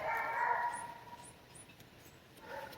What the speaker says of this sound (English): My dog is barking so much.